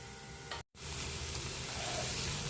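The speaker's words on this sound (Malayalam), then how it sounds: "തക്കാളി കൂടെ ചേർത്ത് നല്ലതുപോലെ ഇളക്കി വേവിച്ചെടുക്കണം." Tomatoes cooking with onion, garlic and ginger in a pan, a continuous hissing sizzle broken by a brief silent gap near the start, then steady and fairly loud with no talk.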